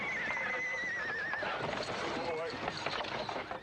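A horse whinnies loudly and close, a rising then wavering neigh, followed by snorting and shuffling hoof sounds.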